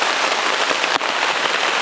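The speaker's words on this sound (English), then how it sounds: "here it is, raining" Steady rain falls on the Appalachian Trail near Chestnut Ridge, a dense, even hiss of drops drumming on surfaces with no breaks and no voices.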